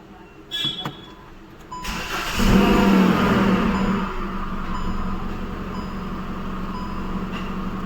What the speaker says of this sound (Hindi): मैं कार स्टार्ट करके वो नॉइज़ सुनाता हूँ आप लोगों को